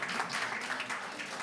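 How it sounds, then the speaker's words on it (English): Steady applause from an audience at a city executive committee meeting fills the whole stretch, a dense wash of clapping heard from a distance and fairly soft. "I will ask, Deputy Member McConnell, I will ask that you not applaud or otherwise, contribute to the discussion."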